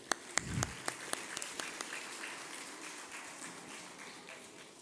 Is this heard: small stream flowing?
no